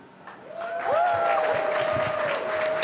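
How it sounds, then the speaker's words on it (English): SpaceX employees at Hawthorne cheer and applaud after a Falcon 9 first-stage landing, a crowd roar swelling within a second with whoops and whistles rising above the clapping. "if you can hear that cheering, everyone here at Hawthorne is very excited"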